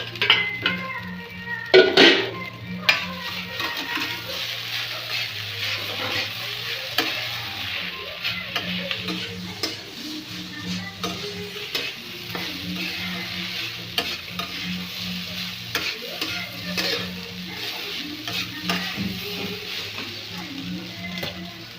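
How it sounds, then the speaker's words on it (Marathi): Chillies sizzling in oil in a pan while being stirred, with scraping and clinking of a spoon against the pan, some sharp clatters early on and steady frying throughout. "आता मी ही मिरची घालते"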